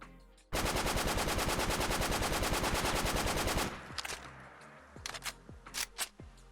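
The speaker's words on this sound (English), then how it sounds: "Let's go ahead and check out the custom sounds and animations" A modded 12.7 SMG in the video game Fallout 4 fires one long, rapid automatic burst for about three seconds. Loud, sharp shots follow, then a few scattered clicks and mechanical handling sounds.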